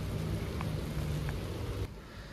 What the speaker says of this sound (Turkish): Yağmur da iyi başladı.